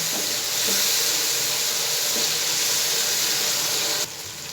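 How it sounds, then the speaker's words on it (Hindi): Tomato puree sizzles and hisses as it fries in a karahi of chana dal, a loud continuous broadband sizzle that drops in level near the end. "प्यूरी डाल के इसकी हम अच्छी तरह बुनाई कर लेंगे।"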